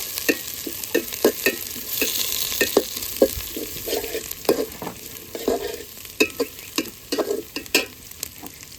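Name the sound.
frying onions with cardamom, bay leaf, cinnamon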